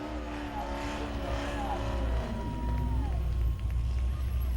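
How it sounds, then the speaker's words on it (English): A Grand Stocks race car at Langley Speedway does a burnout, with a steady engine roar and tire squeal rising over a distant crowd. "Officials said no burnouts, but Mark Fry, he got the message. Ricky Derrick didn't seem to get that message"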